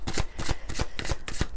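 Oracle cards being shuffled by hand, a quick close flurry of riffling snaps in rapid rhythm over about a second and a half, with no talking.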